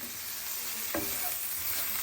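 Garlic stirred in hot oil for chicken confit, a steady close sizzle and bubbling with a brief scrape of the spoon near the middle.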